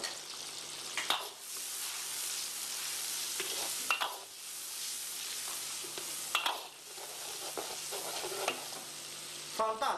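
Spices, sauce and cooking wine stir-frying in hot oil for Chongqing grilled fish, a continuous loud sizzle with repeated scraping strokes of the spatula and occasional clinks of the pan, no talking.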